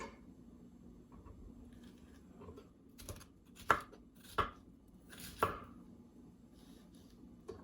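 A knife chops green pepper into squares on a board, a few sharp, separate cuts with pauses between them over a low background hum, close and moderately quiet.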